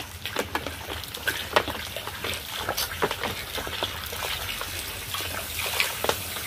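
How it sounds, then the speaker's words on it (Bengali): Water pours into a cooking pot of spiced potol (pointed gourd) with peanuts, a continuous splashing trickle with bubbling and small gurgles throughout, fairly close and steady. "এবার আমি এর মধ্যে একটু জল দিয়ে দিচ্ছি"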